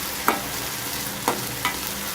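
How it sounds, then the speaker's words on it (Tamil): Mudakathan greens sauté in castor oil in a pan, a continuous close sizzle broken by three distinct scraping stirs of a spoon against the pan. "அது இப்போ பார்த்திங்கன்னா நல்லா வதங்கி வருது"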